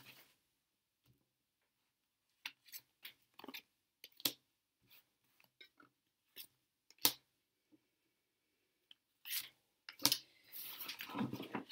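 Tarot cards shuffled and handled at close range, with scattered crisp snaps, riffles and flicks coming in irregular bursts, ending in a longer run of rapid card riffling.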